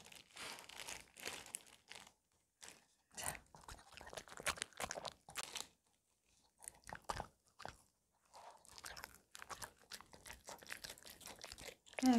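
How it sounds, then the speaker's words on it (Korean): A dog crunching through spicy kimchi bossam: close, wet chewing and crackling bites in irregular bursts with short pauses, fairly quiet and with no talking. "그냥 씹어 먹어야지."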